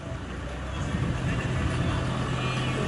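A car passes on a Cuban street, its engine rumble rising and holding as it draws near, with people talking over the traffic noise.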